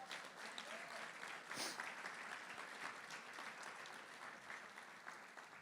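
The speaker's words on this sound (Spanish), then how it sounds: "denle un aplauso a Dios por eso" A church congregation applauds, a sustained, even roar of many hands clapping heard at moderate distance throughout, with no clear voices on top.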